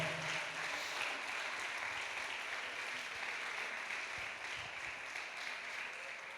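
A church congregation claps together in a dense, sustained wash of applause that holds evenly throughout, loud and close.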